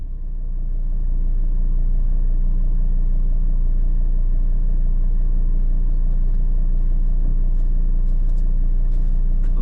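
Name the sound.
car driving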